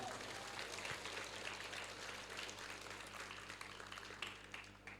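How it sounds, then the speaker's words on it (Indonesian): Students at a high school flag ceremony in Cibinong applaud together, a faint, distant, continuous wash of many hands clapping outdoors that lasts throughout. "Tepuk tangan untuk adik-adik semuanya"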